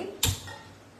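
A gas stove under a pan clicks on once, a single sharp igniter tick followed by a faint low whoosh of flame that quickly settles into quiet.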